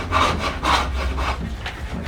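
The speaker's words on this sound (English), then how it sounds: "I'm using a tiny little gouge to rough that down." A small gouge roughs down a wooden stool stile spinning on a lathe, giving a close, loud, rhythmic scraping that swells and fades in repeated strokes.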